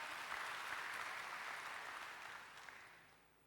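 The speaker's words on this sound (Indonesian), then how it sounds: "Tepuk tangan bagi Allah kita." Broad wash of applause from a large church congregation, sustained and fairly distant, slowly fading toward the end.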